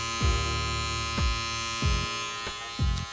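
A Surker SK-7511 electric shaver running on its low setting gives off a steady electric hum, with a few soft bumps and thuds as it is handled.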